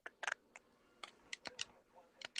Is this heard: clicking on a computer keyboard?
yes